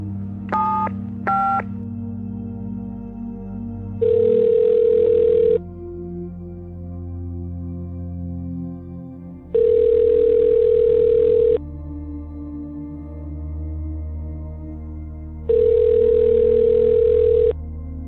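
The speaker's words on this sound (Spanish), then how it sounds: "Así que vamos a marcar." A telephone is dialed with two quick keypad tones, followed by three long, loud steady dial-tone bursts separated by gaps, over a soft background of music.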